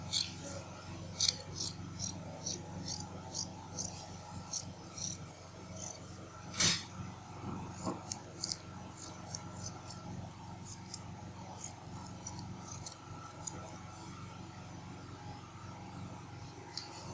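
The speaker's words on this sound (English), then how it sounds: "So the next thing I'll be doing now is to cut it out." Scissors snip through fabric while a cape top is cut out, a steady run of soft, close crisp cuts and rasping slides that continues throughout.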